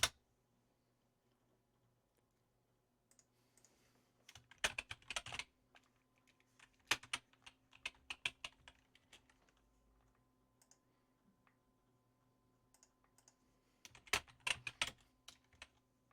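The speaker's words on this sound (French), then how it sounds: "À l'aide de votre clavier, vous pouvez appuyer sur la touche Tab pour changer de bulle de sélection." Someone types on a computer keyboard in a quiet room, with short bursts of close, light key clatter separated by pauses and a faint steady hum underneath.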